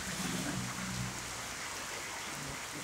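Rain begins falling over a village in Tutong, a dense, steady hiss of drops on surfaces with a low rumble underneath early on, close and even for the whole short stretch.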